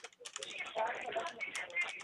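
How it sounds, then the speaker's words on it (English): Rapid clicking of typing on a computer keyboard during a remote PC repair support call, a dense busy patter of keystrokes at moderate loudness, alone without talk. "Is that you who's typing?"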